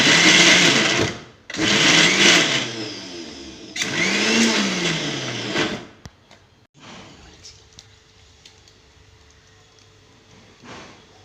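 A mixer grinder pulses chopped onions in three loud bursts of whirring motor, each a second or two long with brief gaps, before the motor winds down and low kitchen noise remains.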